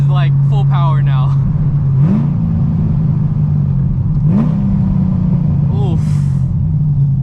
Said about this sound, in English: I probably got used to the car just misfiring a lot, because I think this is like full power now.